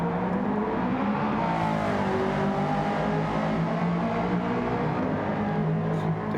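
A Chevrolet Camaro ZL1 in a racing video game accelerates under power during a race, its engine droning loud and steady with rising pitch and other cars faintly around, no talk.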